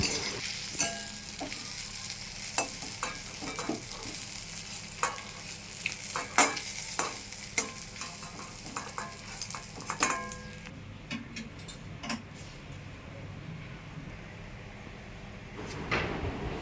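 Prawns fry in a pan as a utensil stirs them, sharp metallic scrapes and clicks knocking irregularly over a soft, steady sizzle that quiets partway through.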